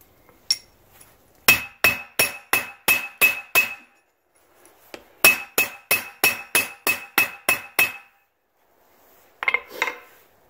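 Quenched coil spring steel test pieces take repeated hammer blows. Two bursts of about eight sharp, ringing metallic strikes come in quick regular rhythm, each burst followed by a pause, then a few final clanks.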